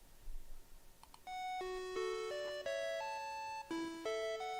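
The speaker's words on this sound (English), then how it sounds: "My little door chime is over." Small electronic door chime playing a bright, steady melodic jingle of several clear tones, close and moderately loud after a few faint clicks.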